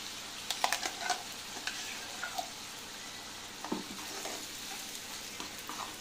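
A ginger, garlic, green chilli and onion paste fries in oil for an Andhra-style chicken curry. It sizzles steadily up close while a spoon stirs it, giving scattered soft scrapes and clinks.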